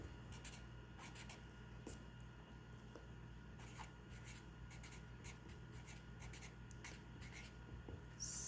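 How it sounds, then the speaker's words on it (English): A pen or pencil writes by hand on paper in quick, soft scratchy strokes, close but very faint over a low background hum. "So I'm going to write that down real quick."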